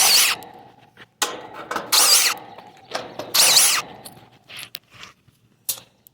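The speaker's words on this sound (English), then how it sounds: "Now we are going to take off these screws around the top." A power driver backs screws out of the top panel of a new Trane HVAC condenser unit, whirring and squealing in short bursts with gaps and small metallic clinks between them.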